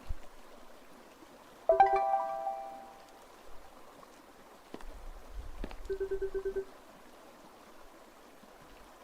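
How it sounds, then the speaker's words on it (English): A video game phone rings twice, each a short burst of warbling electronic tones several seconds apart, set over quiet background ambience with a couple of faint knocks between the rings. "Well, I guess that's Ivan's phone."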